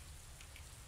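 Rain falls in the Mass Effect 3 multiplayer game as a short, steady hiss of drops on surfaces, faint and continuous, with no talking.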